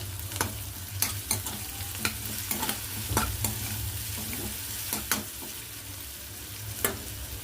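A spoon stirs a paste of green chili, coriander and curry leaves in a pan, quiet scraping strokes repeating irregularly over a soft, low sizzle, with no talk.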